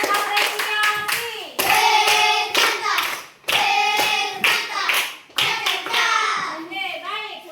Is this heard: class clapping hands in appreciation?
yes